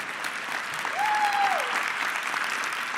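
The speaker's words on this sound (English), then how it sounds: "Yeah, you can clap for that" Keynote audience at Microsoft Ignite 2023 applauding, a dense, even burst of clapping from a large crowd with a brief tonal whistle-like sweep over it midway.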